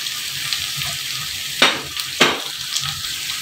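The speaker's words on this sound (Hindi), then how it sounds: "इसी टाइम पे मैं बंद गोभी इसमें डाल रही हूँ।" Shredded cabbage sizzles and fries in a hot pan for egg fried rice, a steady crackling hiss broken by two sharper bursts as it is stirred or tossed.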